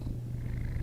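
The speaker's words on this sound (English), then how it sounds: "Yeah, he's purring. He's a good cat." Close, steady purring from a cat, a low pulsing rumble that holds constant for under a second without any speech.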